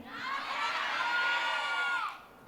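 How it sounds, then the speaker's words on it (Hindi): At the RFF Social Spotlight 2024 awards event, an audience cheers and whoops in a brief, bright swell that rises and fades within a couple of seconds. "तो एक बार जोरदार तालियां हो जाए"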